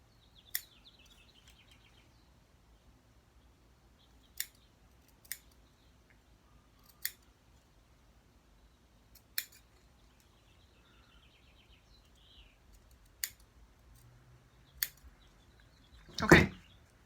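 Fabric scissors cut through felt in a quiet room, making sparse, crisp snips spaced a second or two apart and ending with a louder, sharper cut.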